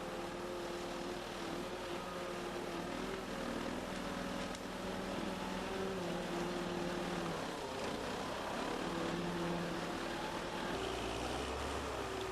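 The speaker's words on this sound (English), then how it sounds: "backhoe loaders extremely comfortable and easy to drive, even in virtually impossible terrain" Engine drone of a Huddig backhoe loader driving over rough terrain, a steady moderate rumble with slight changes in pitch as the machine works along, with no talk over it.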